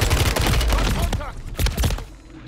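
Gunfire in Call of Duty: Modern Warfare III, dense rapid bursts of shots in a busy firefight that thin out toward the end, with brief voice sounds mixed in.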